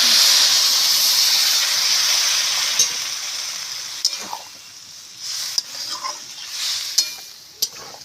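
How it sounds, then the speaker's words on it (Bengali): Water poured into a cooking cabbage curry sets off a loud hissing sizzle and steam burst that fades gradually, followed by sporadic stirring clinks and bubbling. "এবারে জল দিয়ে দিচ্ছি"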